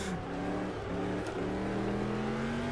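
A car engine in a racing game around Targa revs under throttle, a steady, fairly faint droning whine that dips briefly and then climbs smoothly in pitch as the car pulls away.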